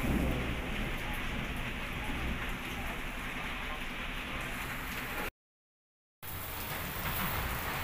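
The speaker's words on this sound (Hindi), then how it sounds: "ये देखिए कितना बारिश हो रहा है अभी ज़ोरदार बारिश हो रहा है" Heavy, steady rain pours down in a dense, continuous hiss with low rumbling underneath, briefly cutting out to silence before resuming.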